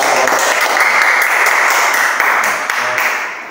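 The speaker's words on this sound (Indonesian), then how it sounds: "kita berikan tepuk tangan" Steady, loud applause from a classroom of students in a Catholic religious education lesson, dense clapping sustained throughout and tapering slightly at the end.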